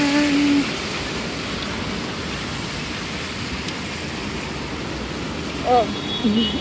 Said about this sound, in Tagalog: Malakas na malakas ang ulan.